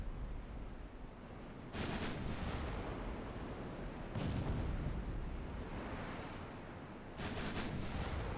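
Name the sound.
warship turrets firing a broadside in Ultimate Admiral Dreadnoughts video game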